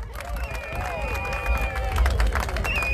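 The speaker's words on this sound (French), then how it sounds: "Applaudissez pour vous-même." Crowd at a political rally applauding steadily under a loud voice, with vertical clap streaks through continuous crowd noise and speech.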